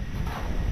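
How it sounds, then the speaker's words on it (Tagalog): Strong wind gusting across an outdoor microphone, a steady low rumbling roar with no speech. "lumakas ang hangin"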